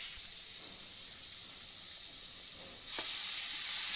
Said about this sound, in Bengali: এবার আমি মাংসটা দিয়ে কষিয়ে নেব।